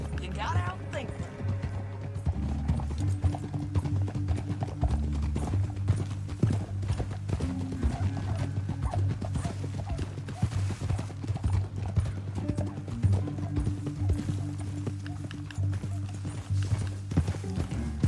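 Horses gallop in the Red Dead Redemption 2 video game, a steady, close rhythm of clip-clop hoofbeats running throughout under intermittent talking.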